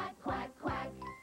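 Singing voices chant a rhythmic run of quacks in a children's song about a little duck, imitating the bird with two drawn-out sung syllables and a fainter tone trailing off at the end.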